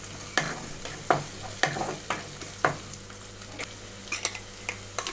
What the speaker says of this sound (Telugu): ఇంకా ఉల్లిపాయలు కొంచెం వేగాలి